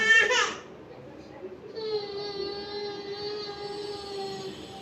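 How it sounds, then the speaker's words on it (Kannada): Passing train heard near a home, a broad rumble that settles into a steady, ringing tone lasting several seconds, with a brief burst of a baby crying at the start. "ಅಲ್ಲಿ ಸ್ವಲ್ಪ ಟ್ರೈನ್ ಸೌಂಡ್ ಆಯಿತು"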